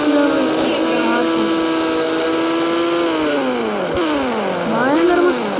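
A motorcycle in the Indian Bike Driving 3D video game, said to reach 260 km/h, speeds along with a loud, steady engine whine whose pitch climbs and dips through repeated gear shifts, heard alone and up close.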